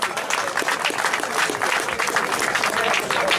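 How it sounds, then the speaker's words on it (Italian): Dense, steady applause from an audience at an awards ceremony honoring a football team's striker, loud and continuous throughout with no pauses. "Io vorrei fare anche un grande applauso per il bomber di quella squadra, Giovannino Chironi."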